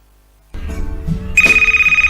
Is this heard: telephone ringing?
yes